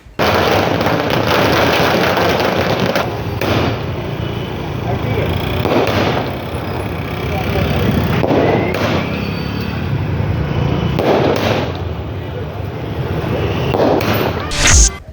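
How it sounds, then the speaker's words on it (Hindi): Diwali fireworks burst over Amravati city in a long series of cracks, booms and thuds, some near and some distant, as a voice speaks over them. "दोनों दिन शहर के लगभग सभी क्षेत्रों में जमकर आतिशबाजी भी हुई।"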